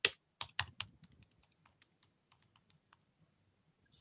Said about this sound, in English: I'm typing, but I can't see it come up.